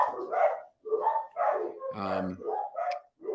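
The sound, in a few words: dogs barking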